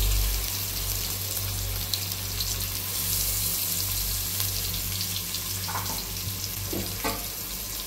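Onions frying in hot oil in a pot for dum biryani, a loud, continuous hiss and crackle with a few brief clatters of a utensil near the end.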